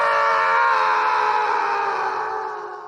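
Screams from characters falling through the air in a Captain Underpants audiobook, a sustained, loud wailing cry that fades slightly toward the end, heard alone.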